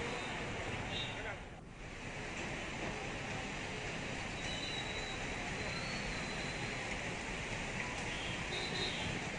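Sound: light rain showers in Ahmedabad

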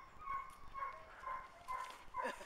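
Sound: dog

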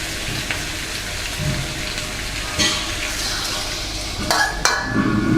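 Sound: stir-frying catfish with curry paste in a pan

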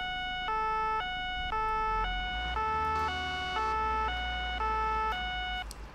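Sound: police car siren and lights in video game ARMA 3

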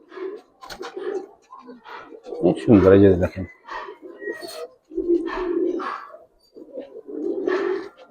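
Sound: Giribaz and coloured pigeons cooing

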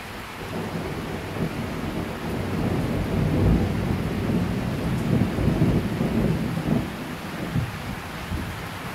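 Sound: thunder and rain during a thunderstorm

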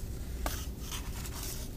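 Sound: scissors cutting a slit in cardboard

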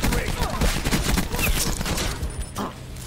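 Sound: gunfire in video game Borderlands 2

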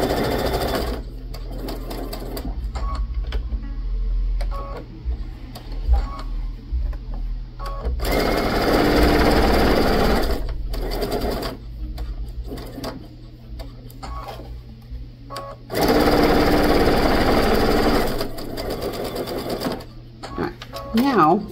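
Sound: sewing machine stitching three sides of a bag pocket

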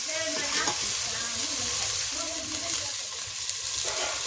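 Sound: onions frying in a pan

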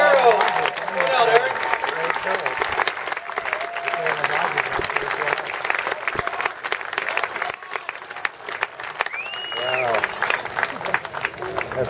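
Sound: crowd applause at baseball celebration

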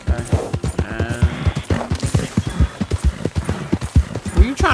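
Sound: horse hooves galloping in a video game

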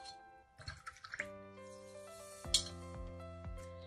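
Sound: rinsing a paintbrush in water

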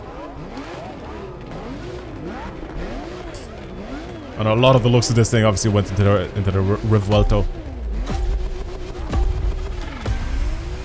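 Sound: Lamborghini Sian Roadster V12 engine revving, video game The Crew Motorfest

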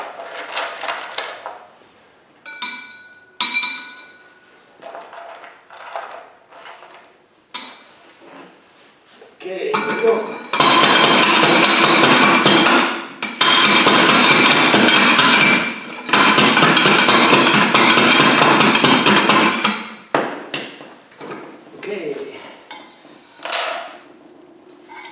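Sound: hand rock crusher crushing rock

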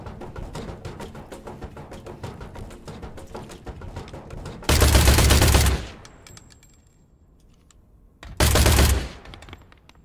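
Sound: robots firing guns in INDUSTRIA video game

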